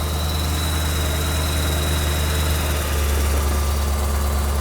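The V8 engine of a 1955 Buick idles steadily with a deep, rumbling exhaust burble throughout, close and continuous, with no one speaking.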